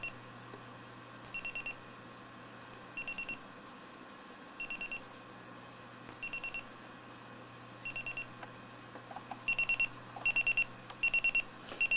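A Sony Dream Machine ICF-C1 clock radio alarm sounds through its small speaker as short bursts of quick high beeps, repeating at a steady pace at first and then coming faster and slightly louder toward the end.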